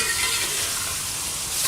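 Onions sizzling and frying in a pan for stuffed okra, a loud, steady, hissing crackle close up with no talking.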